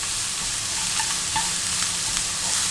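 Onions sweat in a pan over low heat, giving a steady soft sizzle with a few light stirring taps near the middle and no talk.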